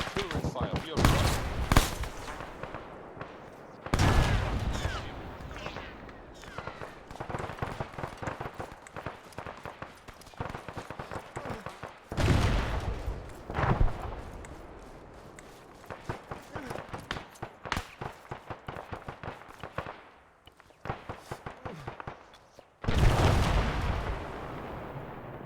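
Artillery fire in the Arma 3 military game erupts in repeated loud blasts and rolling booms across a battlefield, with bursts of gunfire between the impacts and people talking throughout.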